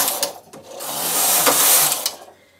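A Singer-type knitting machine carriage being pushed across the needle bed, a rising and falling mechanical swish with ratcheting clicks at either end, loud and near, with no voices.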